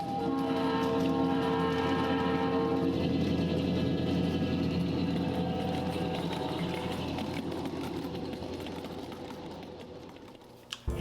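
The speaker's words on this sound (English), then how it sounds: "we catch Ken's Santa Fe F7s one last time at the Marshall Hill crossover, with Jim Rivetto at the throttle giving us a nice little horn show" Santa Fe F7 live steam model locomotives at the Marshall Hill crossover during an Adirondack Live Steamers spring meet sound a sustained multi-tone horn over a steady mechanical drone, which fades as they pass.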